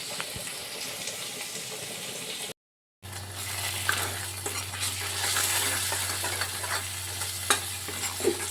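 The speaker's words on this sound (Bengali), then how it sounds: "মশলাটা ভাজা ভাজা হয়ে গেছে" Spices with chopped tomato and slit green chilli frying in oil in a pan, a continuous close sizzle with stirring and light clinks, briefly cut to silence near the start and then louder and fuller.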